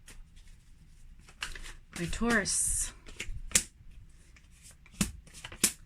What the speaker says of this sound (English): I'm going to shuffle the deck for Taurus